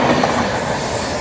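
The Vivek Express rumbles along its rails in steady, continuous, loud noise from on board, without a break and with no voices.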